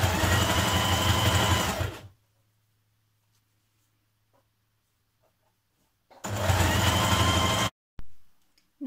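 A sewing machine top stitching around the belt of a Burda 6241 skirt runs in two steady, close bursts of a couple of seconds each, separated by a long silence.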